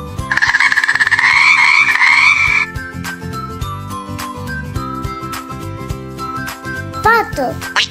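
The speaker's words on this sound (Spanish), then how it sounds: "Rana." A frog croaks in a loud rapid rattling trill lasting a couple of seconds, set against a children's animal-sounds track with light jingling music and a voice.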